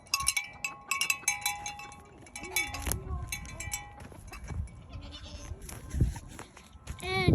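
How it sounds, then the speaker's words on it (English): Goats on a farm bleat in a mix of calls near and farther off, with other livestock sounds and a person talking throughout. "And here are the goats."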